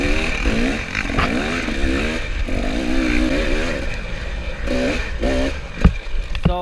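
Dirt bike engine held hard at the rev limiter during a GNCC off-road race at Tomahawk in 2017, a loud close stuttering drone with wavering pitch and clattering over rough ground.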